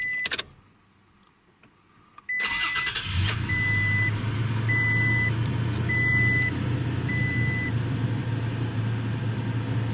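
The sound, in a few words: Toyota Tacoma V6 truck engine starting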